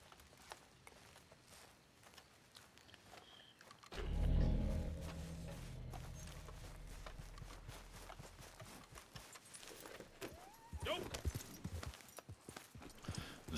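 Horse hoofbeats while riding in Red Dead Redemption 2 Online, a steady clip-clop that swells loud around the middle and carries on under game ambience, with a roar-like burst near the start.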